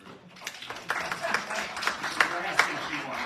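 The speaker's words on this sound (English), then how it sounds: "round of applause for Katie Smith" A round of applause at a city council meeting, with scattered mid-distance clapping and a few sharper claps standing out, mixed with a murmur of voices.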